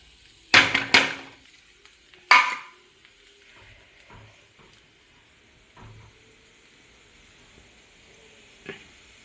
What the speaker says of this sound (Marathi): कांदा टाकते परतायला तोपर्यंत